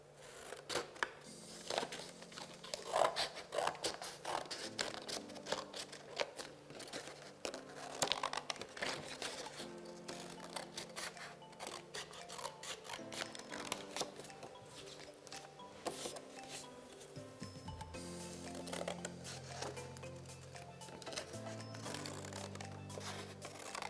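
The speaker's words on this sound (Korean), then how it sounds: "가위를 사용할 때는 언제나 다치지 않게 조금 조심해서 잘라주고요" Paper being cut with scissors during a children's art class making a flashlight craft: a long run of soft snips, crinkles and rustles, close and fairly quiet, with no talking.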